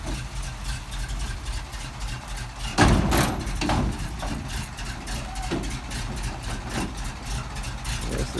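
A 1971 Ford F700 pumper fire truck engine idles with a deep, steady low rumble, swelling briefly louder near the middle before settling back to an even, continuous drone up close.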